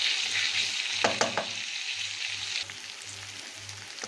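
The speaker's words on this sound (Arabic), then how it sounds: "هبتدي انزل بيهم كده واقلب تقليبه حلوه لحد البصل بتاعي ده ما يدبل خالص" Two large onions frying in oil for a beef tagine, a steady sizzle broken by a few clattering stirs of a utensil in the pan, close by and with no talk.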